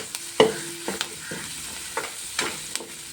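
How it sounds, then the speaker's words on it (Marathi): Coarsely crushed garlic, peanuts and green chilli fry in hot oil, a close crackling sizzle broken by several scraping stirs of a spatula against the pan. "आपण आता लसूण शेंगदाणे आणि हिरवी मिरची आपण ठोसर अशी बारीक करून घेतलेली आहे तर तेलामध्ये चांगले परतून घेऊया"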